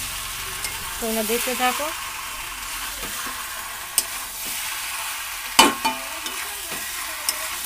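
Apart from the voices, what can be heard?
chicken being sautéed in oil in a pan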